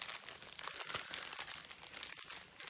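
Close, continuous crinkling and crackling of plastic wrapping being handled and pulled open, with no voices.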